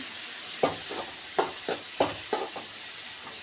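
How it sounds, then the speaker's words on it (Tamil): Washed cauliflower tossed into a pan of sautéed tomatoes for cauliflower gravy, a low sizzle punctuated by about six distinct stirring clacks and scrapes spaced roughly half a second apart. "நம்ம வாஷ் பண்ணி வச்சுருக்க காலிஃப்ளவர் இதில் போட்டுக்கலாம்"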